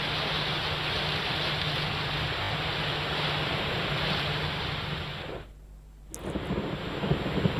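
Loud, steady rushing floodwater flows over a high bridge, a broad roar like a heavy flood current, briefly dipping quieter before surging back.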